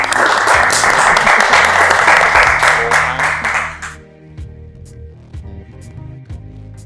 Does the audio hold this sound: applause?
yes